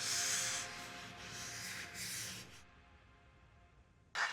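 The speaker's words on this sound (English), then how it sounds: "Slowly sand down the wood right before the point where the black vinyl starts showing." Sandpaper rubs steadily over a wooden tankard, taking the wood down toward a black vinyl layer beneath: a close, hissing scrape for about two and a half seconds, then quiet with a brief scratchy burst near the end.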